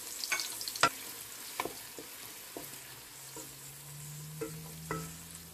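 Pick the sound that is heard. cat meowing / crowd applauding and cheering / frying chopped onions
frying chopped onions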